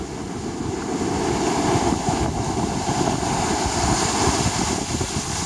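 Ocean waves surge and wash at a cold San Francisco beach, a steady broadband roar with wind buffeting the microphone throughout, no talking.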